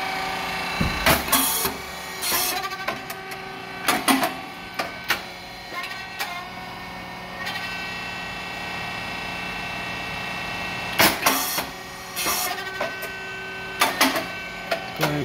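An SYP9502 rice cake machine with titanium-coated moulds runs steadily, a low mechanical hum broken by sharp, loud puffing bangs that come in clusters, several near the start and again later.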